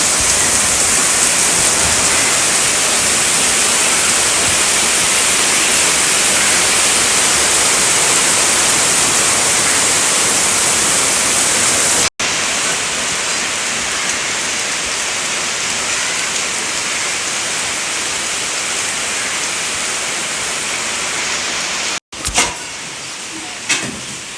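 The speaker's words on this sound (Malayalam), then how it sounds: "മുത്തമ്മാൻ്റെ വീട്ടിൽ നല്ല മഴയാണുള്ളത്" Heavy rain pours steadily, a loud, dense hiss that continues without letup, briefly cutting out twice before resuming.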